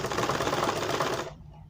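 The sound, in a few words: sewing machine stitching a blouse neckline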